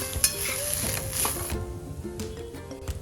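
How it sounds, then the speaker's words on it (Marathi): Fresh grated coconut sautéing in a pan for fried modak filling, a soft sizzle with light stirring and a few spoon-on-pan scrapes, close and moderate with no voices. "आता यामध्ये आपण खोबरं घालूया ओलं खोबरं परतून घेऊ छान"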